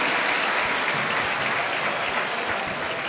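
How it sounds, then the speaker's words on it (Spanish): Crowd applause in a basketball arena during a playoff game between Hestia Menorca and Rioverde Clavijo, steady clapping filling the hall for a few seconds. "Aplaude Vintaufa a Paul Molins."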